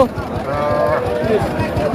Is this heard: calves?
yes